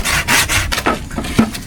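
Hand sawing of wood with a new, sharp handsaw, heard as a rapid run of rasping back-and-forth strokes, close and fairly loud, with no talking.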